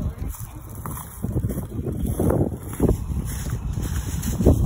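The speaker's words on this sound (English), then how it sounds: "The wind's picking up." Wind blowing through woods during an outdoor Easter egg hunt, a steady gusty roar and rustle buffeting the microphone, with no speech.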